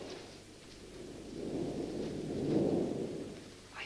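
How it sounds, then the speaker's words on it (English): Thunderstorm from a 1936 film: a low, swelling rumble of thunder builds and peaks near the end, with steady rain hiss underneath and no voices. "I say, Dick, what on earth storm coming up?"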